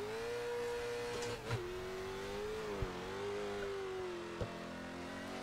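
A Late Model Stock race car in iRacing revs hard while failing to spin its tires for a burnout: a steady, loud engine drone that wavers slightly in pitch, with a few sharp clicks.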